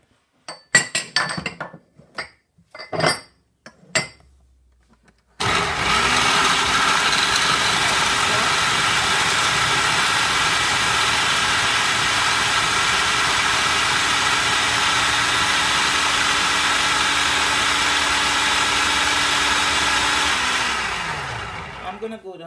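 A few glassy clinks and knocks come first, then an electric grinder starts and runs as one steady, close whir for about sixteen seconds, coarsely grinding garlic pork seasoning, before winding down.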